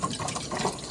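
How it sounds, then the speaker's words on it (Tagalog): Water poured from a tap or container into a cooking pot in a home kitchen, a steady close splashing and trickling fill that runs continuously with no talk over it. "Ato ni siyang butangan sa tubig"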